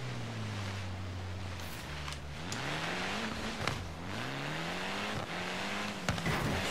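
In Forza Horizon 3, a car slides on an icy mountain road, its engine droning and swooping in pitch as revs rise and fall, with a continuous noisy rush over the sound of the game.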